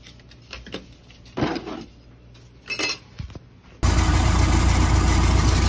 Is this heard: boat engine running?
yes